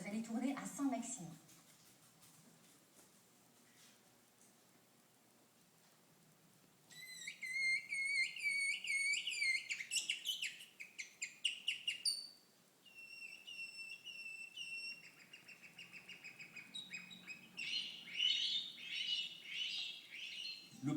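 Student in a chilet lesson at a bird-song whistling school in Saint-Maximin imitating bird song with a whistle, producing bright rapid trills and chirping phrases in repeated bursts after a quiet opening, close and clear.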